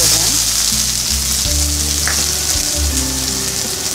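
Sliced onion hits hot oil already holding cloves, cardamom and fennel, making a loud, dense, continuous sizzle close by, with faint stirring underneath throughout.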